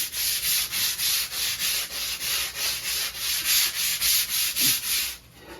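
Steady rhythmic scrubbing of dog urine-stained carpet in a closet with a hard bristle brush, loud close back-and-forth strokes about twice a second, ending in a brief pause.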